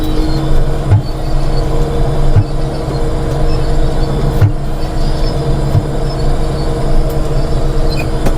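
A grape harvester's engine drones steadily and loudly in low gear during picking, with a constant mechanical hum and occasional faint clicks, no voices.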